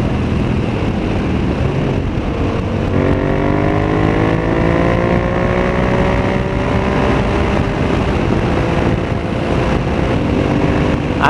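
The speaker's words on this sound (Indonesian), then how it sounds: "kita test sekejap motor ni dia punya torque dia" A Yamaha MT-07 motorcycle engine revs and pulls hard on a test ride in Malaysia, its pitch climbing through the gears under steady wind rush, with no talking.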